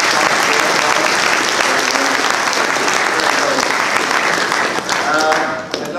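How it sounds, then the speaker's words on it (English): A conference audience at a business session gives a loud, dense round of applause for two racing drivers. The clapping runs steadily throughout and thins slightly near the end. "Big round of applause for our two drivers"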